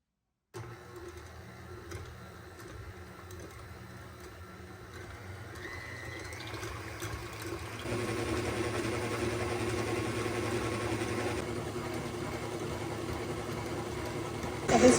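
An electric mixer fitted with a chilled whisk whips cream in a bowl, a steady motor whir that slowly grows louder and fuller partway through as the cream begins to thicken.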